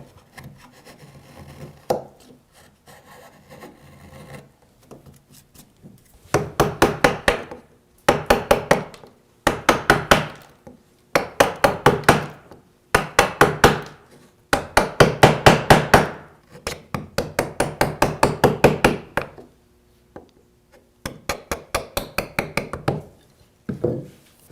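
Sharp chisel paring and chopping through pine while cutting miter dovetails, a run of quick crisp woody taps and scraping strokes in bursts, close and clear, with no talking.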